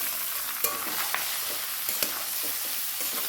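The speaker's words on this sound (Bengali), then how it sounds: "মশলাটাকে সুন্দর করে ভেজে নিচ্ছি।" Spices fry in a pan with three slit green chilies, a dense continuous sizzle with a few sharp pops and light scrapes, heard up close with no talking.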